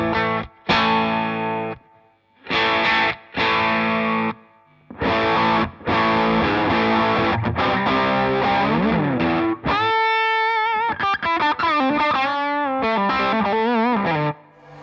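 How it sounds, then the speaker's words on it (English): Electric guitar through a heavily distorted amp setting, loud chords and sustained notes with short pauses between phrases, ending in a run of rapid picked notes. "Green is a bit of distortion and red is a bit more distortion"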